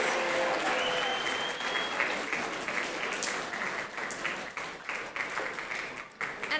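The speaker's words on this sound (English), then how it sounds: "Can we get a big round of applause for all of our outstanding scholars?" An audience at a high school assembly for grades 9 and 10 honouring outstanding scholars gives a long, dense round of applause that fades gradually.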